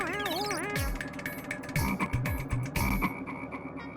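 A frog croaks in a comedy show: a warbling synthetic sweep first, then a series of deep, loud, closely spaced croaks that end abruptly, with no talking.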